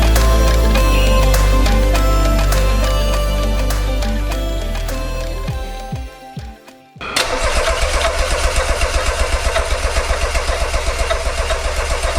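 A sustained mechanical whir winds down, a brief pause follows, then a dune buggy engine cranks and fires into a loud, rapidly pulsing idle that continues steadily.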